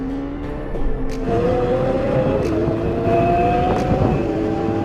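A Ferrari 488 Pista, a McLaren 720S and a Lamborghini Aventador SV are in a rolling drag race, locked in third gear in their sportiest settings. The engines drone loudly and rise steadily in pitch through the run, with no talk over them.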